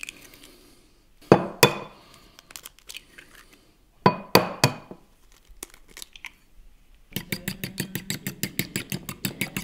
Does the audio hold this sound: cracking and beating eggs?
yes